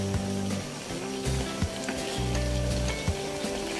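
Food being stirred in a hot frying pan while cooking, a continuous sizzle with scraping strokes of the spoon and a few light knocks against the pan, close up, no voice.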